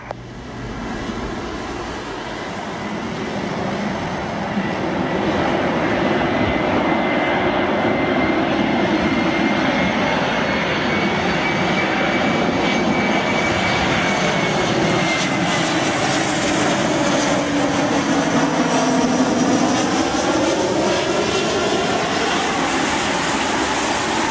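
An Aeroflot passenger jet coming in to land, its engines a loud, steady roar that builds over the first seconds and holds with a shifting whine, heard from inside the aircraft without talk.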